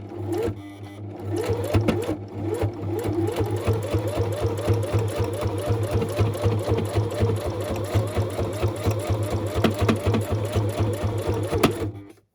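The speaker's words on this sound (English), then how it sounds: "once the machine is running, I'd rather stay quiet and concentrate on the stitching" Sewing machine stitching fabric for a box frame cover, a steady fast mechanical whir with a regular needle rhythm running continuously and close up, no talking.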